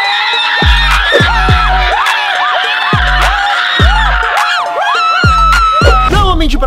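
Crowd whoops and cheers for Emilly Vick at a rap battle, loud and sustained over a pounding bass-drum beat of music.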